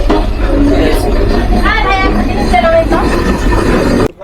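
The Rupsha Express pulls into Bheramara station, a loud, close rumble of wheels with high squeals and crowd noise, cutting off abruptly at the end.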